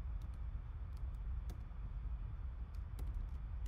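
Sparse, faint keystrokes on a computer keyboard while writing Swift code, a few light clicks scattered over a steady low background hum.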